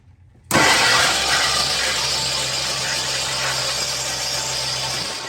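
Abandoned 1969 Lincoln Continental engine cranking without starting, a sudden loud onset of steady, rattling starter churn with a high squeal, continuing unbroken for several seconds.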